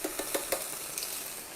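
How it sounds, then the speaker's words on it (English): Frozen peas and crushed garlic hit a hot pan with onion, giving a steady close sizzle with a few brief clicks and scrapes near the start. "I love a sizzle."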